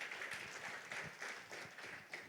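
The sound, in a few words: applause for God in a church service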